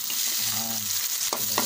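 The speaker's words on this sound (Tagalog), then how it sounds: "Una, igisa ang sibuyas." Onion sautéing in oil for chicken afritada, a steady broadband sizzle with a brief stirring scrape near the end, close and fairly loud with no talking.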